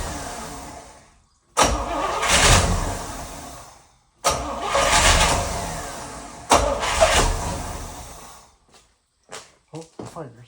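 A 1972 Chevrolet Nova with a big block engine cranks and fires three times, each roaring attempt dying back to silence, followed by a few short clunks.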